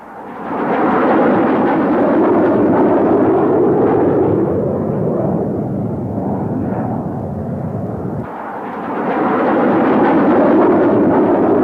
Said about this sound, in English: until the bomb impacts